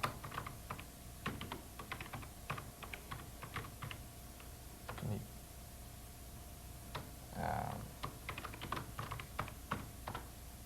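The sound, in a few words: typing a BBS message on a computer keyboard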